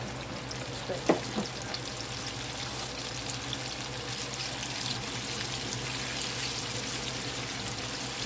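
Chicken pieces fry in hot grease for a country fried chicken dinner, giving a steady, fairly quiet crackling sizzle with a brief clatter near the start, and no talking over it.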